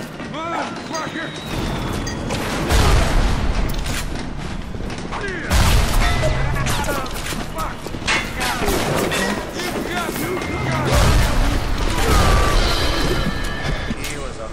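Bombs hurled back at an enemy by telekinesis in BioShock explode in repeated heavy blasts, each loud crash ringing out among clatter and game effects, roughly every few seconds, with someone talking over them.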